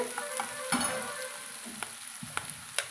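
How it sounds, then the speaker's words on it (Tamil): Onions and curry leaves stir-fried in a pan, with a steady sizzle broken by several scraping stirs of a spatula close by, no voices. "ஒரு நிமிஷம் நம்ம இது போல் கலந்து விட்டுட்டு"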